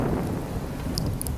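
Sleet pelting down through a daylong winter storm in New York, a steady dense hiss of frozen precipitation with a few brief brighter ticks of ice striking nearby surfaces.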